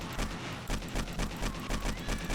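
An AK rifle fires in the 7 Days to Die video game, rapid bursts of close gunshots in a regular rhythmic volley, loud and sustained with no talk.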